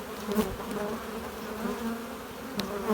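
Honey bees buzz steadily in and around an open hive while nucs are being harvested, a soft, continuous drone with a few brief louder passes from bees flying close.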